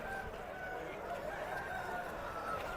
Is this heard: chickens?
yes